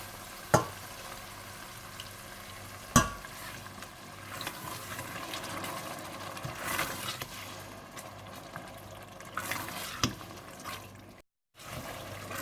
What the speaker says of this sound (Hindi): जब मसाला अच्छी तरह से भुन जाए तो आप इसमें दही डालकर भून लें